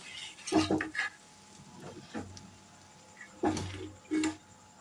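Chili pakoras in batter frying in hot oil, soft sizzling punctuated by several clinks and scrapes of a utensil against the pan, fairly quiet and close with no talk.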